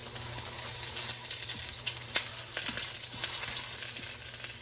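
A halved lemon pressed cut-side down onto a hot stovetop grill sizzles steadily, a continuous close frying hiss with small crackles and pops throughout and no talking.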